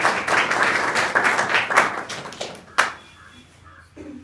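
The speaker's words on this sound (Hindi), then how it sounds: "अंशुमन के लिए एक जोरदार ताली बजाओ।" A classroom of secondary school students claps for a classmate in a burst of brisk applause that fades out after about three seconds, followed by a single sharp thump and quiet room noise.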